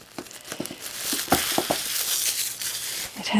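Crinkling and crackling of a stiff, hard clear plastic package cover being handled and poked with scissors up close, with irregular sharp clicks and rustles over a steady hiss.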